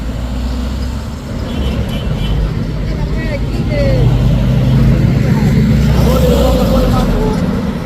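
A tour bus rolls past on a hill road at Bukit Kodok, its deep engine rumble steady and close, swelling slightly midway, with voices talking over the traffic noise.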